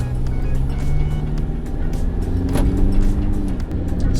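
A pickup truck on a road test in the Philippines, heard from inside as a steady engine drone and road rumble with some wind noise, sustained and fairly loud.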